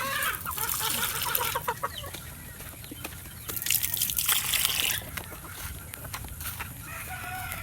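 A White Kelso hen gives short, scattered clucks among other fowl in a backyard coop, with water trickling nearby. The clucking comes in uneven bursts at moderate loudness.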